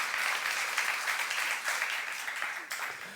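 Congregation at a youth service sermon breaks into steady applause, a dense wash of clapping filling the room at moderate loudness for a few seconds with no voice over it.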